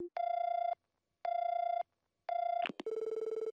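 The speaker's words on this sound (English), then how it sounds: "Lloyd called the phone number he'd received." A phone call rings out in the video game Trails From Zero: three evenly spaced electronic ring bursts, clean and isolated, then a click as the line connects and a steady buzzing tone follows.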